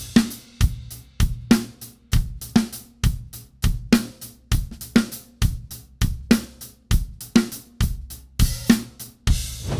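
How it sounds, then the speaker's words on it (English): A drum kit playing a kick and snare beat with time kept on the hi-hat, steady repeating strokes at a moderate tempo, loud and close with no talking. "most drummers would just play the kick and the snare pattern and keep time on the hi-hat"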